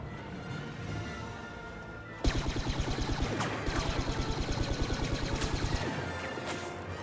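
Rapid blaster fire in a Star Wars Battlefront match, loud bursts of repeated sharp shots after a quieter stretch of game background, firing in fast rhythmic volleys for several seconds.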